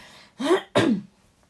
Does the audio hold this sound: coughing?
yes